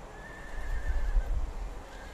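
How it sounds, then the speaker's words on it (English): A Przewalski's horse with a powerful mane neighs in Central Asia, a wavering whinny over low rumbling and movement, fairly close and steady throughout. "This is Przewalski's horse with a powerful mane."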